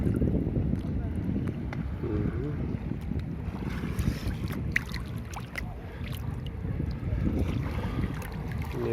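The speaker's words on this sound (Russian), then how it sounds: "Кто-то там на водном мотоцикле" Out on the sea off a beach at Yeysk, a jet ski runs at a distance, a faint motor hum mixed into constant wind, waves and nearby talking.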